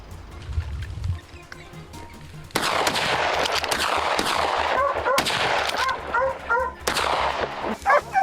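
Rapid gunfire during a wild boar hunt in open terrain, loud bursts of shots close by over a steady rumble, with someone shouting and dogs barking in between.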